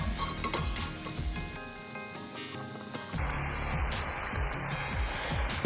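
New York strip steak sizzling in butter in a pan while being basted, a steady sizzle joined by brief clinks and scraping, with a low hum in the background.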